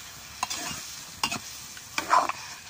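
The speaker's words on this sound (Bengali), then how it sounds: "সিংড়ার আলুটা এরকম করে অল্প গাইজা দেবো" A potato filling for singara gets stirred in a pan, with a few sharp scraping and sizzling strokes spaced out over a quiet background.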